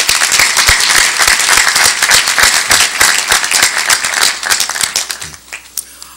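Loud, sustained applause from a crowd at a college academic convocation ceremony, dense clapping that thins out toward the end.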